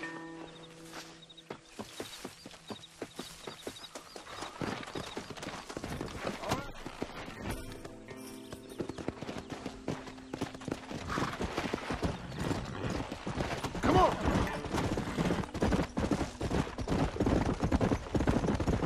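Horse hooves clip-clop steadily through a video game scene, a continuous rhythmic stream of hoofbeats with voices talking and occasional sharp bangs mixed in.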